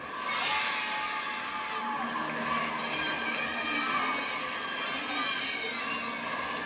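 Loud, sustained crowd cheering fills a women's gymnastics arena at the Pac-12 Championship, a dense roar of shouts and whistles that stays steady throughout.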